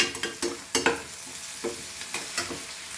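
Onions sizzle in a pan for Goan taro root bhaji, several quick, loud scraping stirs spaced across a brief stretch of steady frying with no voice.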